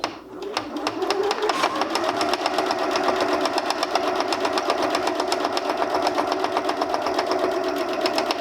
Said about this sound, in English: So I do this by sewing until I reach the corner